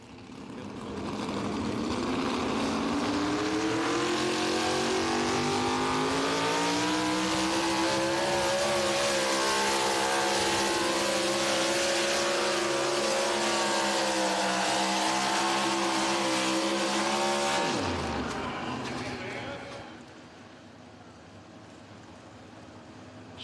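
A pulling tractor at the NTPA Super Nationals in Tomah, Wisconsin, with Rob Foster driving, roars loud and steady at a constant pitch for about eighteen seconds, then its pitch drops sharply and it falls to a quieter idle.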